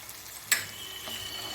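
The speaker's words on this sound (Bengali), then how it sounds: "দই দেওয়ার পর আমি গ্যাসের ফ্লেমটাকে একদম লো করে দিয়েছি, দিয়ে মশলাটাকে ভালো মতন কষিয়ে নেব" Spice masala mixed with yogurt fries gently in a pan over a low flame, giving a soft, steady sizzle with one sharp clink of a utensil partway through.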